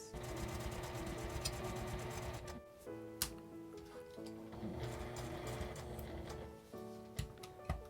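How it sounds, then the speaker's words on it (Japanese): A sewing machine edge-stitching around a small round zipper pouch with a 12 cm zipper runs in steady rapid bursts, whirring close by with brief pauses and small clicks between runs. "留め具のところから留め具のところまで端ミシンをかけます"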